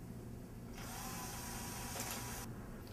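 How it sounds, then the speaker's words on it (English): A power drill bores mounting holes in a door frame for a Norton Rixson 5800 Series door operator, a faint whirring burst of about two seconds rising above a quiet room. "Drill your holes."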